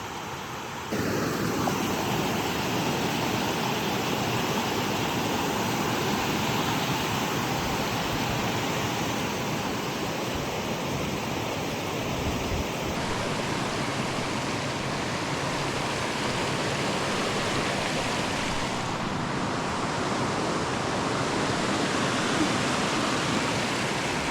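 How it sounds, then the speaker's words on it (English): Alsea Falls roars as a steady, full-bodied rush of falling water, a constant broadband hiss that stays even and close for the whole stretch, with no voices over it. "Might be the sound of the waterfall too."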